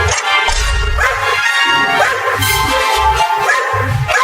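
Several cartoon dogs bark and yip loudly and repeatedly, close up, with overlapping harsh barks and whimpers.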